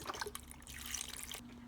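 Tap water running steadily into a pot for potato soup, a continuous close splashing trickle with a faint hum underneath, no voices.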